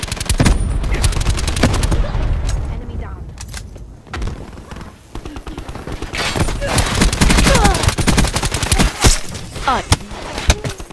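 Dense, loud gunfire on the robot in a Black Ops 4 Safeguard match on Summit, with rapid automatic bursts and scattered single shots and thuds throughout, and voices speaking over the fire.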